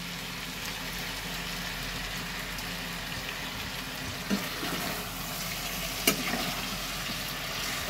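Rice and lentils frying in hot oil with ghee in a pan, a low steady sizzle with a couple of brief clinks as the mixture is stirred.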